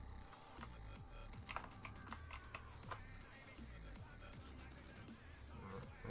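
Computer keyboard keys pressed during a shortcut while working in 3D software: a quiet run of irregular clicks and taps, clustered early then sparser, over a low background hum.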